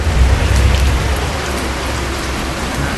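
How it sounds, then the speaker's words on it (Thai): Steady rain pours in Bus Simulator Ultimate, a dense, even hiss of drops on surfaces that stays loud and constant throughout. "แล้วฝนตกอีกนะฮะในเกม"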